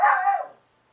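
A dog lets out a single short bark indoors after returning home from a walk, close and loud, then silence.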